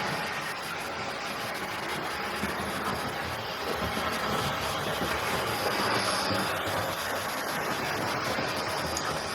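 A Hornby Mallard LNER model locomotive with tender drive circles its track, giving a steady, continuous rolling rumble with a faint rail clatter that holds at an even level throughout.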